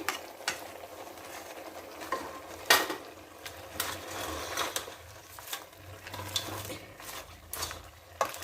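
A spoon stirs crab curry in a pan with soft scraping and clinking strokes, close and fairly quiet, in irregular bursts over low background hum.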